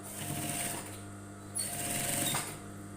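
Sewing machine stitching along the edge of a welt pocket on a women's blazer, a steady mechanical whir in two bursts separated by a short pause, close and alone.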